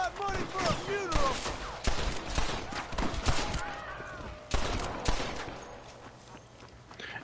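Pistol shots from a Volcanic pistol in Red Dead Redemption crack out in repeated bursts, sharp and loud, spaced unevenly amid hoofbeats and other game noise, with voices talking between shots.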